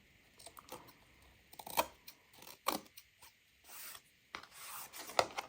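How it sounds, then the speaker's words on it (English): Scissors trimming the paper edges of a mixed media book cover: several close, crisp snips and rasping cuts in short bursts separated by quiet gaps. "Next, I'm just going to take scissors and tidy up those edges."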